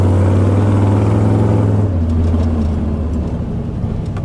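A square-body truck engine roars loud and steady as it revs and spins its wheels in mud, the pitch stepping down midway and then holding, with no talk.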